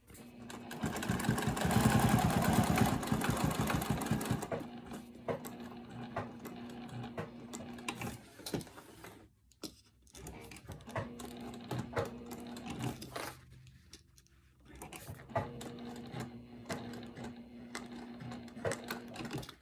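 Sewing machine stitching a Triskele wallet: a loud, rapid mechanical whir for a few seconds, then shorter bursts of stitching separated by pauses, alone without talk.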